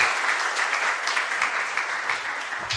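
Steady applause from a conference audience fills the room, a dense, even clatter of many hands clapping without pause.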